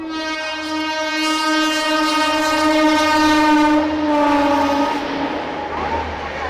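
The Mumbai Ahmedabad Special train passes close by with a long, loud, sustained horn blast over the rumble of the rolling train, then rail noise continues as the horn fades.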